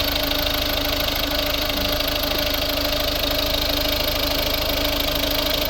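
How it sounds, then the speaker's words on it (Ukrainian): A 2011 Mazda 5 with a 1.6 D2 diesel engine and manual gearbox idles steadily, a close, even mechanical hum with a constant rapid diesel clatter and no change in pace throughout. "Ось робота двигуна, дуже класно працює, рівно тихо."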